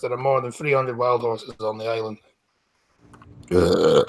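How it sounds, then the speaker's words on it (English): A single short burp breaks out between spoken lines of a news reading, with a voice talking before it and again right after. "It was a burp, not a sneeze."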